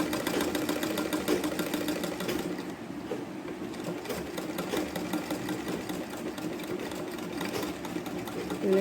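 A sewing machine stitching a bow tie sleeve runs in a fast, continuous mechanical chatter at close range, holding a steady rhythm throughout with slight variations in pace.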